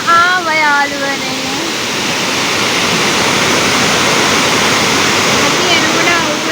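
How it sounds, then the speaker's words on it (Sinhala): Dunsinane waterfall on the Pudalu Oya near Nuwara Eliya roars with a steady, dense rush of falling water, close and loud, while a voice is briefly heard over it at the start. "අපි ඩන්සින නැල්ල බලන්න ආව යාළුවනේ."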